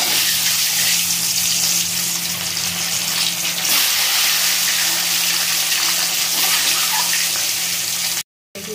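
Eggs frying in hot oil with turmeric and salt, a steady loud hiss and sizzle close up that continues without a break until a brief cut near the end.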